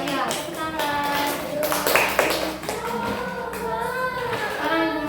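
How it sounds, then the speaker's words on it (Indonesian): Fourth-grade schoolchildren in a classroom clap together in a fast, steady patter of close, dense claps lasting several seconds, with children's voices mixed in. "Tepuk tangan dulu guys, anak kelas 4, anak kelas 4 sudah pintar ya"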